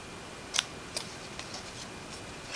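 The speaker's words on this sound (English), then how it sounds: "So all I'm going to do now is just snip down" Scissors snip through paper while trimming a covered pumpkin shape for an autumn card kit: one sharp, close cut, then two or three lighter snips spaced out over a quiet background.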